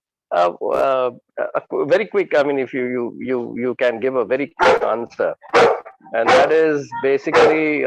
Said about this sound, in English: that's my dog actually.